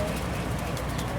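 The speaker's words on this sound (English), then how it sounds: "Birds is fighting." Birds fight outdoors in Parkchester in the Bronx, New York, with scattered cooing and chirping calls over a dense, constant background rush of ambient noise.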